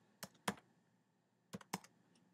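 Keystrokes on a computer keyboard as a command is entered at an ADB prompt: two short clustered bursts of clicks separated by a pause, close and fairly quiet, with no talking.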